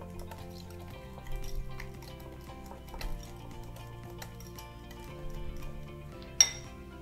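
A spoon stirs sauce with mustard and red chili powder in a bowl, giving soft clinks and scrapes against the dish. One sharper knock comes near the end. The whole thing is quiet and close, with no speech.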